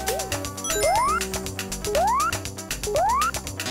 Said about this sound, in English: That's apparently the one-up sound.